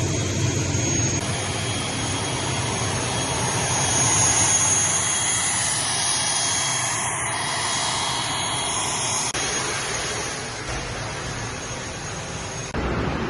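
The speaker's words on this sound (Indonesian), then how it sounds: "Terminalnya sangat bising dengan suara pesawat" Aircraft jet engines roar in a steady, loud, continuous drone inside the Balikpapan airport terminal, swelling slightly in the middle and easing toward the end, with no voices.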